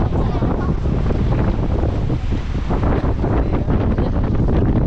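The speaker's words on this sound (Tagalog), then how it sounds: "We conquered big waves." Strong wind roars and buffets the microphone without letup aboard a boat on rough sea near Kalanggaman Island in the Visayas. Heavy waves surge underneath in a dense, loud wash with no clear breaks.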